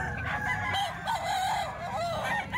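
A Golden Boy sweater rooster crows nearby in a long wavering call, loud and clear with no voices over it.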